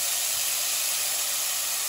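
Steady, bright sizzling hiss of hot oil tempering poured onto mutton haleem, continuous and close, with no voices.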